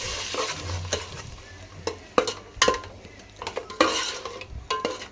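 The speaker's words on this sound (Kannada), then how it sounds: "ಮಟನ್ ಪೇಸ್ಟ್ ಮಾಡಿ ಇಟ್ಕೊಂಡಿದ್ವಿ ಗೈಸ್ ಅದನ್ನ ಹಾಕೊಂಡು ಮಿಕ್ಸ್ ಮಾಡ್ಕೊಂಡು ಗೈಸ್ ಚೆನ್ನಾಗಿ" Mutton paste being stirred into a hot cooking pan, a soft sizzle under repeated scraping and clanks of a spoon against the metal pan at an uneven rhythm.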